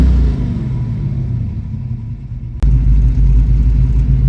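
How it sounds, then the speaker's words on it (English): A 1966 Ford Mustang performance engine idles loud and close with a lumpy rumble, then a sharp click and a sudden jump in volume as it revs up. "I'm going to let you hear this car unwind a bit."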